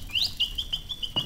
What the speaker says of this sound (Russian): Механическая птичка.